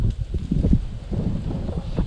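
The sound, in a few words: wind blowing on microphone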